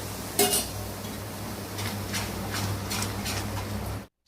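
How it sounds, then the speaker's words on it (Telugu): Sweet Mysore pak mixture made with sugar syrup and oil is stirred in a pan, with one sharp metallic clank followed by soft scraping and light clinks against the pan. No one talks. "ఇలానే కలుపుతూ ఉండాలండి. ఆ 2 కప్స్ ఆయిల్ అయిపోయిందాక కలుపుతూనే ఉండాలి."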